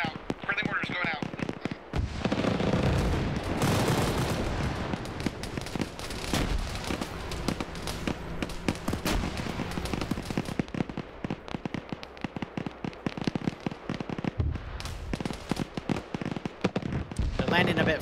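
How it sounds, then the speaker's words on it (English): Friendly mortar rounds fire and thud in Arma, with repeated heavy booms and crackling blasts over a continuous battle din, and voices talk over the action. "we got mortars going out. Friendly mortars going out."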